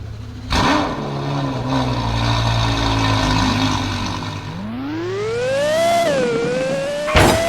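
A Mirage GT sports car in the Roblox game Driving Empire revs its engine loudly, with the pitch climbing and falling as the car accelerates and shifts. A rising whine sweeps upward near the end, and no one speaks.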